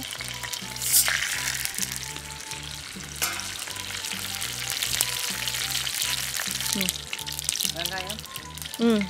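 Fenugreek and mustard seeds fry in a large spoonful of hot oil for a South Indian fish curry, giving a steady close sizzle and crackle while a voice talks over it.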